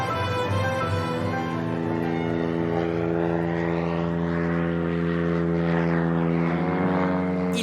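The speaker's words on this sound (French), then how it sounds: "Il y a même les amis pilotes venus faire la fête avec leurs avions de voltige." Aerobatic propeller airplanes drone loudly overhead at a festive gathering, one engine roaring steadily with a shifting pitch as it passes close, no voices heard.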